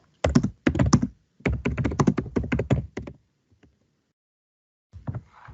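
Typing on a computer keyboard, close and crisp, with quick bursts of key clicks in three runs, then a pause and a short final burst.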